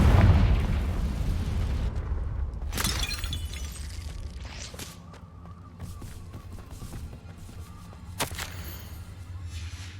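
A Confringo spell blasts in Hogwarts Legacy with a sharp shattering crack. Further whip-like impacts and rumbling debris follow, and a second crack lands near the end.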